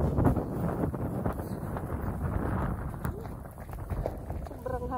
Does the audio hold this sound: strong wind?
yes